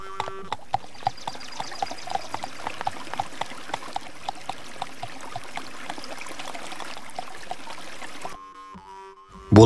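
Cartoon river water streaming and trickling steadily in a mountain setting, a continuous babbling flow with small splashy ticks, cut off abruptly near the end.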